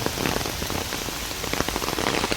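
Rain falls steadily in a botanic garden near a pavilion, a dense close patter of drops striking surfaces with no talking, only scattered louder splats.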